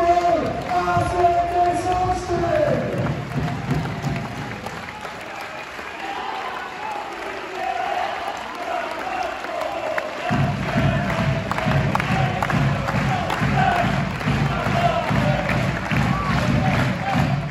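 A crowd in a sports hall in Iława applauds and cheers throughout, with dense continuous clapping and shouts from a large audience. Voices can be heard amid the noise.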